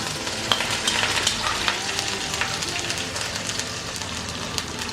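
Curry leaves dropped into hot oil in a pan with ginger, garlic and green chilli for a Malayalam chicken-ball snack, giving a steady close crackling sizzle with spitting pops throughout.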